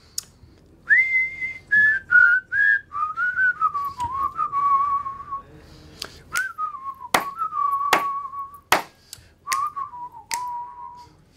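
Someone whistles a melody, a close, clear tune of bouncy phrases punctuated by sharp finger snaps.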